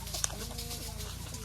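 A pricey rooster lets out short clucks and bird calls close by, faint against a low background rumble, with a voice murmuring briefly underneath.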